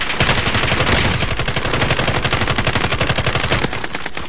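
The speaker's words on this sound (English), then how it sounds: "somebody behind me shooting at me" Rapid automatic gunfire in Call of Duty: Modern Warfare, loud and continuous bursts of shots close by, with a sharp crack near the end and no talking.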